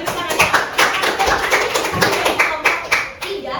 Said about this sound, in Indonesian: kita beri tepuk salut ya